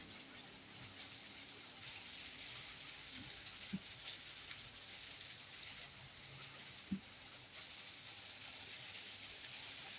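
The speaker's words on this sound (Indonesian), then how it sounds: "Hujan." Steady hiss of rain falling, a constant wash of patter with a couple of faint knocks, no voices.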